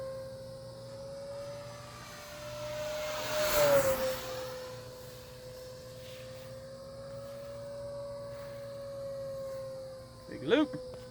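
An FMS 1500mm P-47 RC model airplane makes a fast pass around the field, its electric motor whine rising and sweeping in pitch as it passes close by, steady and moderately loud with a brief voice near the end.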